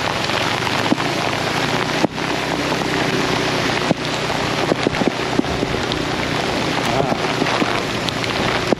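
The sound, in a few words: heavy rain on Nguyen Hue walking street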